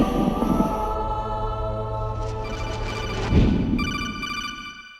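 An electronic codec call ringing in Metal Gear Solid, a warbling tonal phone-like ring that repeats in pulsing bursts, fairly loud and up front, with no voices.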